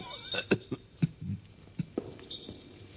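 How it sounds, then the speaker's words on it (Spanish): A bout of coughing and throat-clearing in a Spanish radio drama adaptation of The Cask of Amontillado, set in damp wine cellars: several short, close, sharp bursts scattered unevenly over a quiet background. "El ataque de tos le impidió responderme al momento."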